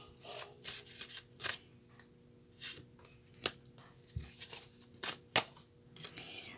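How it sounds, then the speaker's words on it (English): Tarot cards shuffled by hand for a reading: a series of crisp riffling bursts in an irregular rhythm, close and fairly quiet, with no talking. "One more shuffle, they say."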